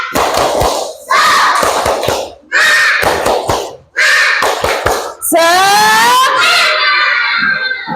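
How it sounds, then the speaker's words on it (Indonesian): Children in a first-grade classroom clap together in a quick rhythmic chant pattern, bursts of loud group clapping broken by short pauses, with shouting voices and talk around them. "kita tepuk semangat dulu"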